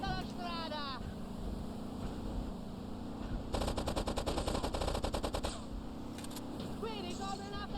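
Rapid AK-47 bursts in GTA 3, a loud rattling volley of tightly spaced shots lasting a couple of seconds amid engine and wind noise, with a voice talking briefly before and after.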